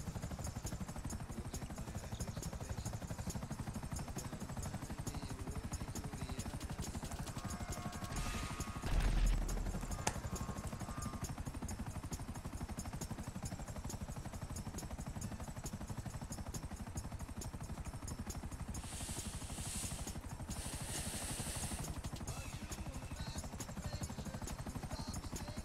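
Helicopter rotor and engine noise in a PS3 online shooter, a steady mechanical drone that runs throughout with brief bursts of gunfire and effects around the middle and near the end.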